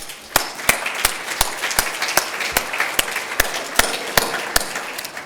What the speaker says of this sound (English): I want to have a big round of applause for Rob Handy